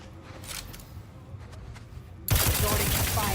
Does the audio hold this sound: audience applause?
no